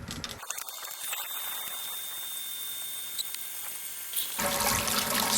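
Water pours steadily while sparging a homebrew beer mash for an amber ale clone, a continuous hissing rush that swells louder near the end, with no voices.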